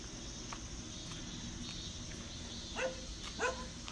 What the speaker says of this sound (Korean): 멍멍이 소리도 들리고 마을을 한 바퀴 돌아보겠습니다